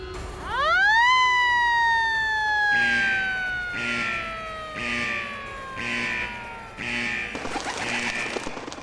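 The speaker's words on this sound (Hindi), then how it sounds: "लगता है जंगल का सायरन बज गया," A siren wails, rising fast, then sliding slowly down before settling into a repeating pulsing tone, loud and close with no voices.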